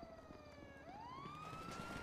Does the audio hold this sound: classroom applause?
no